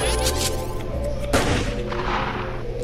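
A shotgun blast in a video game, one sharp loud boom standing out against a dense, steady background of game noise and music.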